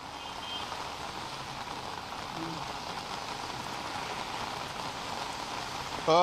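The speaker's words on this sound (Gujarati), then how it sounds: "એક ધારો જુદા જુદા વિસ્તારમાં અલગ અલગ તીવ્રતા સાથેનો વરસાદ વરસી રહ્યો છે" Heavy rain falls steadily across Ahmedabad as a dense, even hiss, with faint traffic underneath and a brief beep near the end.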